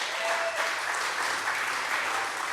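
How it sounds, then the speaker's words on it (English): Rally attendees give a round of applause for lawmakers, a thick, continuous patter of many hands clapping, steady and fairly loud throughout, with a brief cheer audible early on. "Yeah, let's give them a round of applause."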